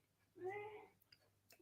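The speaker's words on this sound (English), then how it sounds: "that's my cat if you can hear that in the background." A pet cat lets out a single faint, drawn-out meow in the background of a quiet room, followed by a few soft ticks and rustles.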